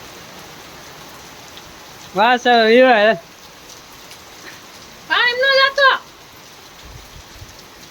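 Rain falls in a steady, moderate patter on village surfaces, heard close and continuous throughout. A voice calls out twice over it.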